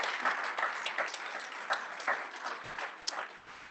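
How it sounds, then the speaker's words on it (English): Audience applauding for new tutors, mentors and coaches at a student success summit, a crowd's steady clapping that tapers slightly toward the end, heard alone without talk. "So let's give all of these new tutors, mentors, and coaches a big round of applause."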